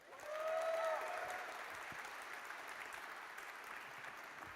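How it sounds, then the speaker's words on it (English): A conference audience applauds speaker Mark Zeman, a dense, steady wash of many hands clapping at a distance across the room, with a brief tonal sound near the start, and no talking over it. "A huge round of applause"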